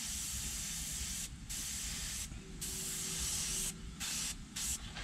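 Airbrush spraying paint in a steady, close broadband hiss, broken by several brief pauses where the trigger is released and the air stops, then resumes.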